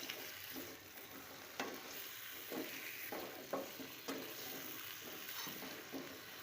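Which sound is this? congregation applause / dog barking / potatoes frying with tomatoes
potatoes frying with tomatoes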